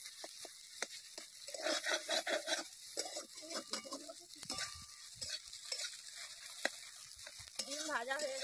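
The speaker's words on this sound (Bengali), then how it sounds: "এর ফাঁকে আমি ডিমটা ভেজে নেব" Egg frying in hot oil in a wok, a steady close sizzle broken by scraping and stirring strokes of a utensil against the pan.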